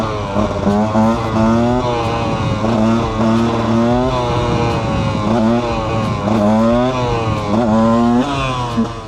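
A powerful two-stroke motorcycle engine revs hard during a wheelie, repeated rising and falling throttle surges with a buzzing tone, loud and close throughout with no talking.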